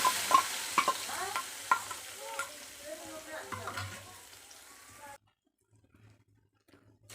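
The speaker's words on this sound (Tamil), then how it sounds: "மசாலா நல்லா கொதிக்கிட்டோம்" Ground masala for a jilebi fish curry simmers in a pan with soft bubbling and stirring, while a voice talks over it, until the sound cuts out near the end.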